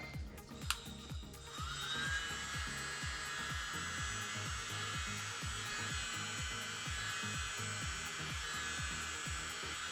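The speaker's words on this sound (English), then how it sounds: "let's get our mini blower and blow this out" A mini blower whirs up after a sharp click, then hums steadily with a high whine and a rapid pulsing motor rhythm while blowing out an acrylic paint pour, close and continuous.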